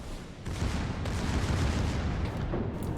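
A battleship's secondary guns fire in a naval video game, a continuous rumbling barrage of booms and muffled blasts at steady loudness, ending on a sharp crack, with no voices.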